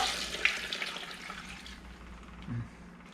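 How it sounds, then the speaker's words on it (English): Measured water poured into a pot of beef soup with celery, carrots and onions, a close, steady splashing stream with a brief louder gurgle near the end. "And I'm going to add 4 cups of water."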